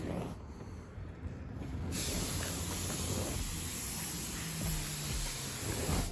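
Compressed air from an air hose hisses while a slot car track groove is blown clean. A steady, loud, broadband hiss starts about two seconds in and continues without a break to the end.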